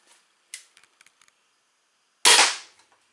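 A crossbow fires with a sharp, loud snap and a short burst of noise, preceded by a few faint mechanical clicks, heard close up.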